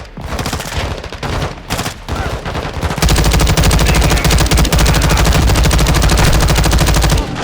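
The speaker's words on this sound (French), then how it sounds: "Mes hommes ont besoin de tirs de couverture" Heavy automatic gunfire rattles in Call of Duty Modern Warfare II, first in short bursts with brief gaps, then a loud, sustained, dense barrage of rapid shots.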